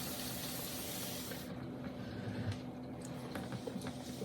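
Water trickling and splashing onto spinning clay on a pottery wheel during centering, a soft continuous wash with faint hiss, quieter after the first moments.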